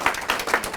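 Audience applause, a short burst of steady clapping from a crowd at a League of Women Voters event.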